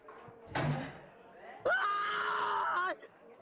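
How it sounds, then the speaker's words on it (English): A person screams in a horror game scene: a short vocal outburst, then a sustained loud, wavering scream lasting over a second before cutting off. "I screamed."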